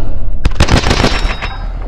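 Rapid automatic gunfire from Call of Duty: Advanced Warfare, loud bursts of shots in quick succession over a constant background rumble.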